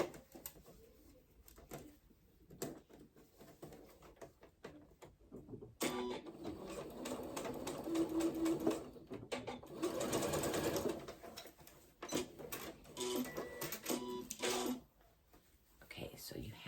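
Sewing machine stitching a seam on a New Look 6871 sewing project, running in steady bursts of rapid whirring with short pauses, close up, while a person talks quietly between and over the runs.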